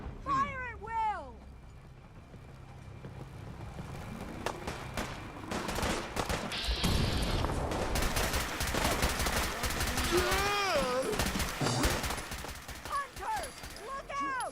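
A volley of gunfire from a group defending against an attack in Fallout 4 builds into dense, crackling shots and bursts, with shouted voices and animal-like cries around and over the shooting.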